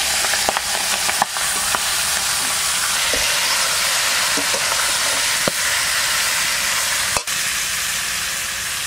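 Fish sizzling steadily as it fries in hot mustard oil with bay leaf, dried red chilli and cumin, a loud continuous crackle and hiss close by with a few sharp spatters and a brief dip near the end.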